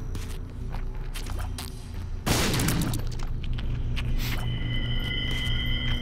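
A bomb bursts in The Binding of Isaac, one sudden heavy blast midway through, cutting across busy game sound effects and footsteps before the background clatter carries on.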